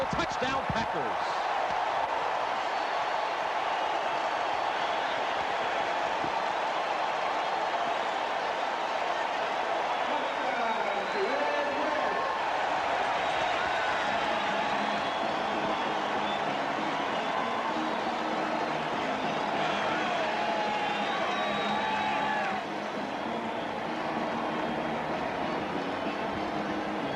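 A football stadium crowd roars after a Green Bay Packers touchdown against Tampa Bay in a 1989 game. The sustained, dense cheering fills the whole stretch at steady loudness, with a broadcast announcer's voice running through it.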